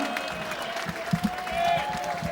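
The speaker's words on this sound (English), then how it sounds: "Please give them a big round of applause. Put your hands together." Boxing arena crowd applauding the two fighters as the referee brings them to the center, a steady wash of clapping with a few louder claps standing out, the crowd noise swelling slightly toward the end.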